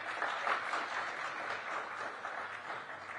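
An audience at an interview event with S. Jaishankar breaks into applause, a dense, even wash of many hands clapping that holds steady and close for a few seconds.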